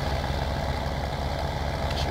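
A tractor engine idles in Farming Simulator as the machine pulls up, a steady low rumble holding at an even, moderate level throughout.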